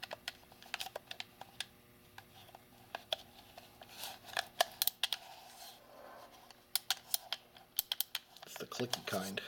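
The buttons on a PowerA Xbox 360 controller give sharp, close, irregular clicks, some single and some in quick bursts, while a person speaks softly underneath.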